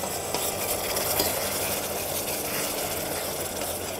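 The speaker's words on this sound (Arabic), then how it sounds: "دلوقتي ابتدي احط الكريمه. هنحط الكريمه بالراحه خالص" Cream poured slowly into very hot caramel in a pan, giving a steady, loud hiss and bubbling with faint stirring scrapes throughout, close up with no voices.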